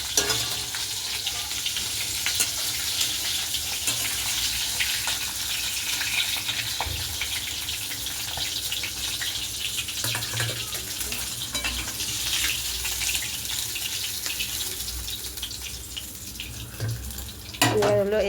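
Fish heads frying in oil with spices in a pan, a steady dense sizzle running throughout with occasional stirring and a brief clatter near the end.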